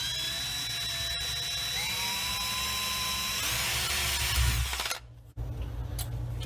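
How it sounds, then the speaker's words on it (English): A power drill whines steadily as it bores a 1/4 inch hole through a pipe during a reverse osmosis system installation, its pitch shifting under load before the motor cuts out abruptly. "we're just going to drill a 1/4 inch hole in this pipe."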